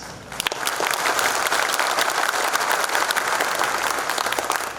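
A crowd applauding enthusiastically, sustained dense clapping from many hands throughout.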